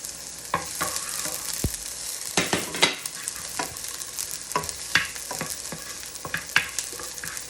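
Garlic sizzles steadily in hot oil in a pan, with repeated clinks and scrapes of a utensil stirring throughout and no talking.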